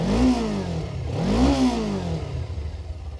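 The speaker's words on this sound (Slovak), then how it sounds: "aký zvuk má tento dvojválec." A Suzuki V-Strom 250 2018 parallel-twin motorcycle engine of 25 horsepower runs close by, rising and falling through two short revs before settling into a steady, even idle hum, with no voices.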